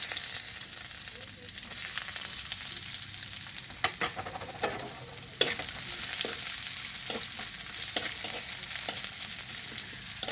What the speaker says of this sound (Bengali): এখন আমি এর মধ্যে রসুন কুচি এবং পেঁয়াজ কুচি একসাথে দিয়ে দেব।